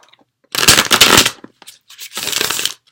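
Two close, crisp bursts of tarot cards being riffle-shuffled, the first longer and the second shorter after a brief pause.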